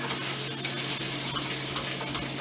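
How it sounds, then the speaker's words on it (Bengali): Lamb steak pan sauce with a little potato sizzles loudly in a hot pan while being stirred, a constant close frying hiss broken by soft scraping strokes. "তারপর এটাকে ভালো করে নাড়বো"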